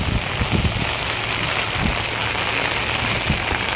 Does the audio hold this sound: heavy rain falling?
yes